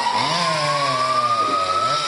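A chainsaw roars steadily at close range during a firefighters' simulation exercise, its engine pitch holding high and even with a slight dip partway through.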